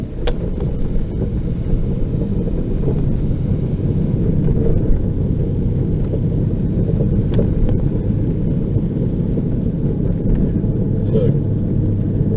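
Inside a car moving through Derry in April 2020, a constant low engine and road rumble drones steadily, with people talking over it.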